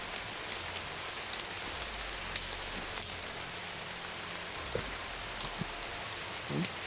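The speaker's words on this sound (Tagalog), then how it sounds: "Lakas talaga yung ulan ko. Habang tumatagal, lalong lumalakas." Heavy rain falls steadily as a soft, even hiss, and scattered drops tap and splash nearby. A low rumble sits underneath the rain.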